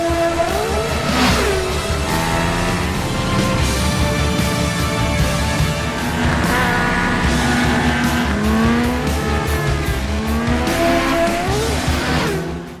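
Race cars tearing around a circuit in a film scene, with loud engines revving and shifting pitch and tires squealing throughout, close and continuous with no talk.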